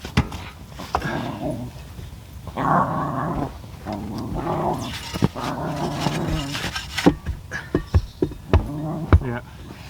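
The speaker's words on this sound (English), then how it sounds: "Our dogs sound like tauntauns." Dogs growl in low, rumbling bursts that rise and fade irregularly, with sharp knocks and clatters in between, recorded close by during outdoor solar kiln preparation work.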